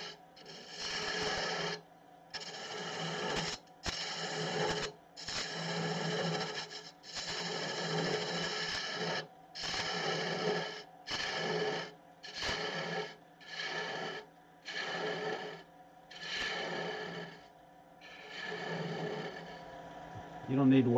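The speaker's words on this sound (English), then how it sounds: "You don't need to watch me sand that" Sanding a wooden long-stem goblet spinning on a lathe: repeated rasping, whirring passes of a second or two each, separated by brief pauses, steady and close.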